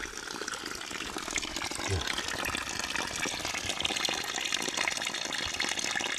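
Water from a flowing stream rushes and splashes steadily and close by as someone scoops from it, a dense continuous gush filling the whole stretch.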